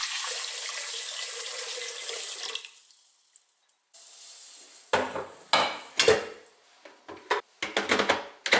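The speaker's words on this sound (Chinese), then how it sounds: "加入多一些的水量" Water runs from a tap into a pressure cooker holding red beans, a steady broadband rush for about two and a half seconds that fades out, followed by sharp clinks and knocks of a pot and utensils.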